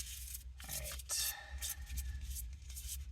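Papery riffling and rubbing of cards being shuffled, a few brief bursts close by over a low steady hum.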